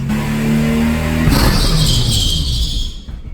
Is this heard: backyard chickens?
no